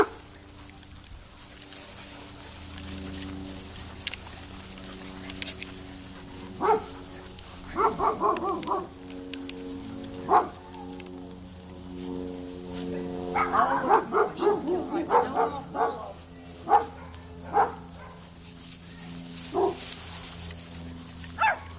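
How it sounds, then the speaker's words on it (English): Dogs barking in a yard during off-leash recall training, with several short barks and yips in clusters over a steady low hum, moderately close, with someone talking at times. "because he doesn't hear him barking"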